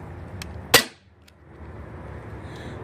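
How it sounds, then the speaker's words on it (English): A single sharp crack from a blowback BB pistol firing, loud and close, followed by brief quiet and a faint mechanical click. "Since it's a blowback, it's loud. It gets actually pretty loud, but very, very realistic with the blowback."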